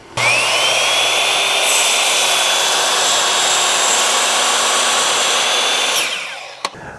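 A power saw whines up and cuts steadily through lumber, a 2x4 or 2x3 for a firewood shed, the loud continuous rasp lasting about six seconds before spinning down, ending with a single knock.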